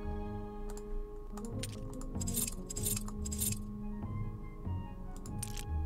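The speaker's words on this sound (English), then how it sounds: "if it does work, it makes a little clicky noise. Really satisfying clicky noise." Satisfying little clicks from the Super Dungeon Designer game editor confirming that a link works: a series of short, crisp ticks spread through the clip over a steady tonal background hum.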